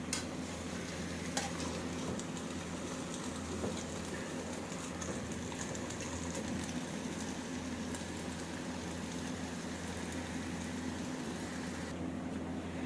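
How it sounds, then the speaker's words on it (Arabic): Chicken pieces sautéing in a pan on the stove, stirred and turned while their juices cook off, giving a steady low sizzle with scraping stir sounds throughout and no talking. "شوحي بقى الفراخ كويس وقلبيها على كل جنب شويه لغايه ما تنزل الميه اللي فيها"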